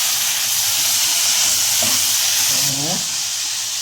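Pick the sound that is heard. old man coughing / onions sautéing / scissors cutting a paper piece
onions sautéing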